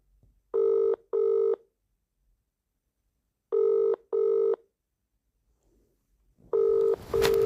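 A telephone ringback tone plays a repeating double ring, two short tonal bursts per cycle about every three seconds, clear and close with quiet gaps between cycles.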